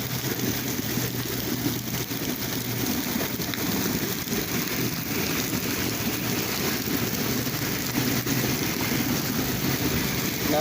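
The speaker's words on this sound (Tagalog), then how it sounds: "Sobrang lakas po ng ulan." Heavy rain pours down during a winter storm in Saudi Arabia, a dense, steady roar of falling water that continues unbroken and fairly loud from start to finish, with no voices.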